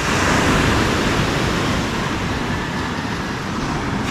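Heavy surf crashes and rushes continuously, a dense roaring wash of strong ocean waves with wind buffeting the microphone.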